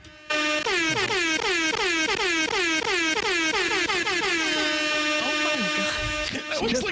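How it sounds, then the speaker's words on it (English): Loud air horns blare continuously in repeated pulsing bursts, a stacked harmonic honking that keeps going for several seconds. "Why all those air horns?"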